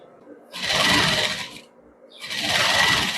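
A sewing machine stitching a Filipiniana sleeve runs in two close, loud bursts of rapid whirring, each about a second long, with a short pause between them.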